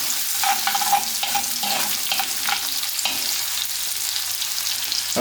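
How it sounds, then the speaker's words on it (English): Chopped onion fries in oil in a pot, a steady close sizzle with bursts of scraping and clinking as a spoon stirs it a few times; nobody speaks. "I'm just going to hit that a quick stir."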